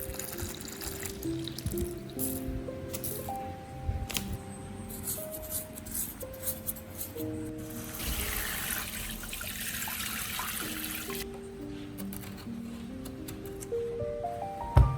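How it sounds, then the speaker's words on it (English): A large onion rinsed under a running kitchen tap, water pouring and splashing steadily over it into the sink, with a fuller gush partway through, close and fairly loud over faint background music. "Then I wash the onion thoroughly."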